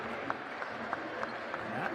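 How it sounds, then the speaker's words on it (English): Home crowd noise at a Fenerbahce basketball game against Valencia, a steady roar of a large arena crowd with rhythmic clapping bursts roughly every third of a second, moderately loud and continuous. "Home crowd of Fenerbahce have enjoyed that one. Plenty of noise from the whole game through."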